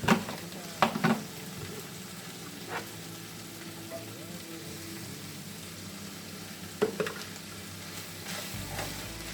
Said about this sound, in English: you just kind of want to cook it just a second, kind of get the flour taste out of it